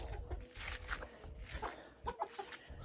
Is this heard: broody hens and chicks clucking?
yes